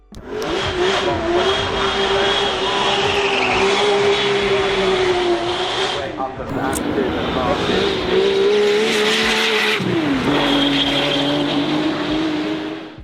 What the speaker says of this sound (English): the side exhaust gives Victor a completely different kind of sound, making it stand apart from the crowd very easily